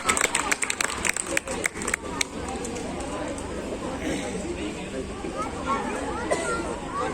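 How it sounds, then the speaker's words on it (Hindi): Crowd at a Guru Ravidas Jayanti gathering in a mohalla claps to welcome Bhai Naveen, with bursts of clapping early on giving way to a steady murmur of crowd chatter and voices. "आप जोरदार तालियां बजाकर भाई नवीन जी का स्वागत करें"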